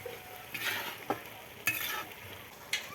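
Cabbage, potato and peas being stirred together in a pan, a few sharp scrapes of the spoon over a low sizzle, with short bursts of clatter spaced across the moment.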